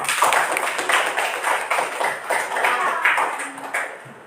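A classroom of students claps for a classmate, a steady patter of many hands close by that thins out toward the end, with no talking.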